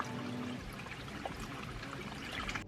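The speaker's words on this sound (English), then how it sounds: "Isn't that crazy how the water comes right out of the mountain like that?" Spring water flows straight out of a mountainside in Montana, a near, continuous gurgling trickle and splash with small bubbling bursts, steady and fairly quiet.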